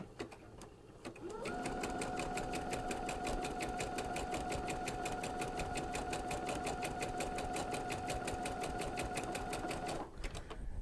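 Sewing machine running a zigzag stitch with a cording foot, a steady rapid mechanical whir and rhythmic needle clatter that starts after a second, holds for about nine seconds, then stops, heard close and alone.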